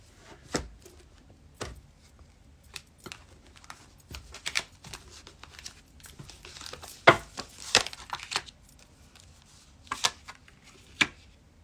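A deck of tarot cards being shuffled and cut by hand in a quiet room, heard as scattered crisp riffles and soft card slaps spread across several seconds, close and fairly quiet.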